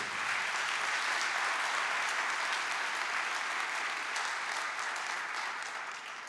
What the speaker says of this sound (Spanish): Eso merece un aplauso para el Señor.